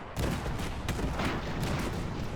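Cannon fire and explosions aboard an airship in the video game Airships: Conquer the Skies, a dense, continuous barrage of booms and crackling blasts at steady loudness with no pauses.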